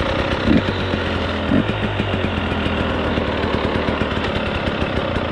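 A Husqvarna 300 TEi two-stroke dirt bike engine with a remapped ECU runs loud and close, a steady buzzing drone with a couple of brief revs early on, and no speech.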